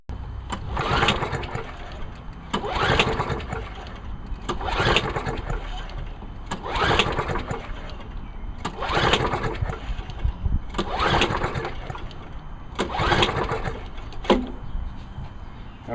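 A Murray push lawn mower with a classic engine and choke on, pulled repeatedly: about seven rhythmic pull-start bursts of engine sputter, close and fairly loud, without catching into a steady run.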